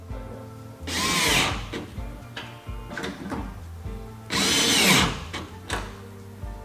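Power tool bursts while tightening front rack mounts to the bed tracks on a Jeep Gladiator, two long loud runs with shorter clicks and rattles between them.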